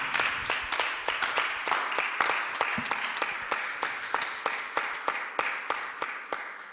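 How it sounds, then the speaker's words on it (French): A church congregation at a sermon claps in a steady, even rhythm, dozens of crisp hand claps repeating at a regular pace and fairly close, with no speech over them. "Let's give a clap."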